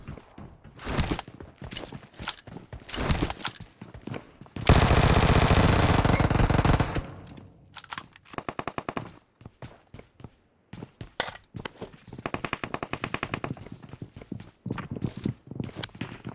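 Vector submachine gun fire from the mobile game PUBG Mobile comes in rapid automatic bursts, with one long sustained burst near the middle and shorter spurts and scattered clattering footsteps around it, all loud and close.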